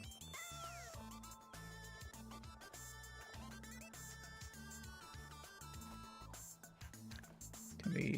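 Cats meowing in the video game PowerWash Simulator 2, a few faint meows mixed under layered game music with steady rhythmic beats, with a louder burst of noise at the end.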